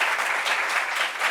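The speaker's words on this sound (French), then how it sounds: "qu'on applaudit s'il vous plaît" A brief, dense burst of applause from an audience at a group meeting, close and loud, with claps blending into a continuous wash.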